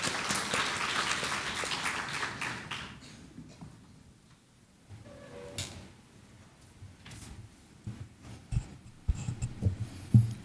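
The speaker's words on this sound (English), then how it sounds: "Please join me in giving him a warm round of applause." Audience applause at a ceremony honoring guest of honor Dr. Sombat: dense, steady clapping for about three seconds, then dying away into quiet room noise with scattered thumps and shuffling.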